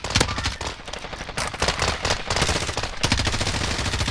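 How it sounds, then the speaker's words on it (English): Rapid automatic gunfire from a video game rattles loud and continuous in dense bursts, with no pauses or talk. "I put a lot of bullets into him, too."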